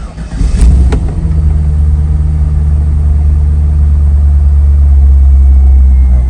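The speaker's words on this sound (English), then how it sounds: "We're going to start the car, and hopefully the oil pressure reads right around 40 when it's idling." A C5 Corvette V8 fires with a brief crank and catch, then settles into a loud, steady, deep idle rumble that holds to the end, with no talking.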